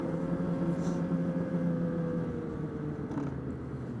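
A Ski-doo MXZ 600R TNT snowmobile with a 129 track cruising Island Pond trails, a steady droning engine with a constant hum and rumble from on board, no talking.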